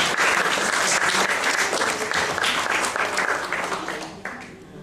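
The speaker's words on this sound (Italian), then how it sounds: "al quale va il nostro primo applauso" Dense, sustained audience applause at a spring book festival event, Il maggio dei libri 2021, steady and full throughout before easing slightly toward the end.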